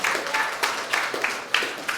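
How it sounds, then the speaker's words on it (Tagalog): A church congregation applauds steadily, many hands clapping in a dense, continuous patter at moderate distance, with no clear voices. "Isa pong malakas sa palakpak po sa Panginoon"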